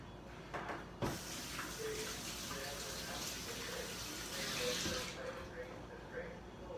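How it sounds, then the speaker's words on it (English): Hands rinsed under a running tap in a kitchen sink, a steady close splash and gush of water that holds for several seconds with a brief louder surge near the end. "So I'm going to go ahead and quickly rinse my hands."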